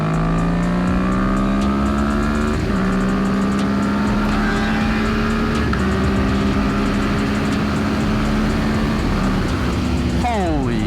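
Kawasaki Ninja 650 and ZX6R motorcycles accelerate hard side by side, a loud, close engine drone rising in pitch through several gear shifts, with wind roar throughout.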